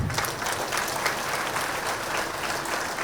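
Audience clapping at a Sakahari rally in Charminar, dense and sustained, filling a large space with a steady wash of hand claps and some crowd noise behind it.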